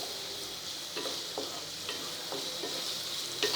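Three finely chopped onions cooking on medium gas for a homemade pizza sauce, a steady hiss of frying with soft, irregular stirring scrapes; near and low in level, with no voices.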